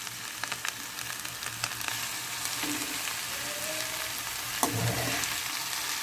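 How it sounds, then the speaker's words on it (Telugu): Okra pieces fry in a pan and are stirred slowly, giving a steady, close sizzle with soft scraping and a few light clinks from the stirring, with no voices. "లేకపోతే స్లోగా మనము కలుపుకుంటూ ఈ వేపేసుకోవాలి బెండకాయ ముక్కల్ని."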